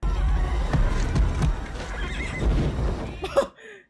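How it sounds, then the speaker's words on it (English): A horse in the 1996 film Dragonheart gives a loud, close neigh near the end, after rumbling hoofbeats and movie sound, and then cuts to silence. "The horse is like, what the hell is going on?"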